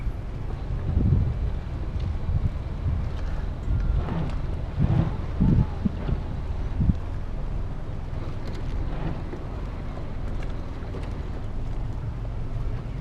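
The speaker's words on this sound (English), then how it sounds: "The wind is blowing us against the dock." Steady wind buffeting the microphone with low rumbling gusts, plus faint boat and water noise throughout, as a boat is pushed against a dock in Stockholm.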